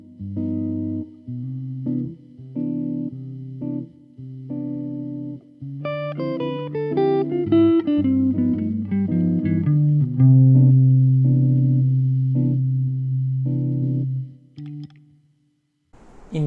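Electric guitar with chorus and echo effects runs up and down a major scale over a looped ii-V-I chord progression, single clean melodic notes ringing above the repeating chords, close and moderately loud, fading near the end.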